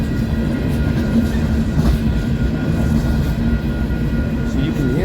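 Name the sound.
loaded coal train passing on bad wheels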